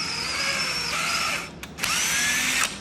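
A power drill bores a small pilot hole for screws in an elevator bi-parting gate panel, giving a loud whining run, a brief pause, then a second strong burst alone.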